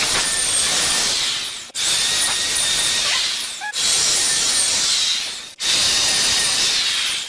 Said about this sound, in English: After the holes are pre-drilled, go ahead and screw these screws in.